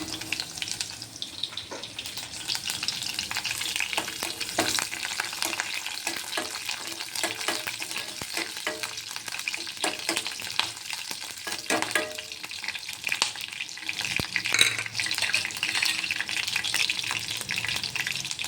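Curry leaves crackle and sizzle in hot oil in a pan, a steady dense hiss with scattered pops and stirring scrapes across the whole stretch, close and fairly loud with no talking.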